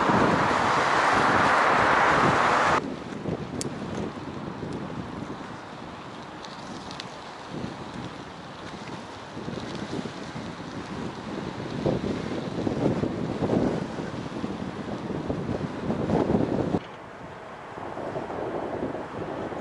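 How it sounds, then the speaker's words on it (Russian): Strong wind buffets the microphone beside the Dnieper river in March, a loud rushing roar that dominates at first, then eases into a steadier gusty rumble with faint background activity. "Ветрено сегодня возле Днепра."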